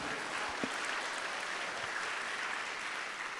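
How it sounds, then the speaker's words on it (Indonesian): An audience at an Atomy sales conference in Indonesia breaks into sustained applause, a dense wash of many hands clapping at moderate distance that fills the room evenly. "Kalau oke, lebih meriah lagi tepuk tangannya."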